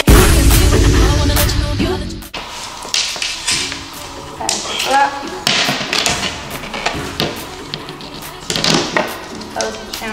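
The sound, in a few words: hammer tapping nails into trim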